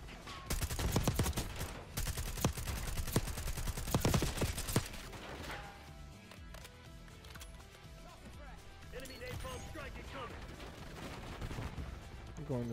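LMG machine gun fire in Black Ops 6 multiplayer, sustained rapid automatic bursts loud for the first few seconds, then sparser distant shots under faint talking.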